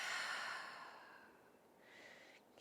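A single long, soft exhale during a yoga session, breathy and close, fading out over a couple of seconds with a faint rustle near the end.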